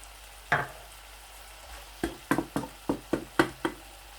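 Green chillies hit keema on a hot tawa, followed by a string of sharp spatula knocks and scrapes in an uneven rhythm over a low sizzle.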